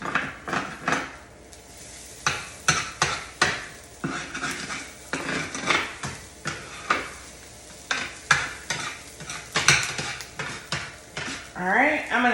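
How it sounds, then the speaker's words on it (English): Hash brown potatoes stirred in a pan on a stove with a metal utensil, giving repeated scraping and clinking strokes in an irregular rhythm over a soft sizzle, close and clear. "I'm going to stir these potatoes"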